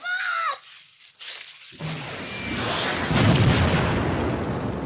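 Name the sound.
bomb explosion in a home movie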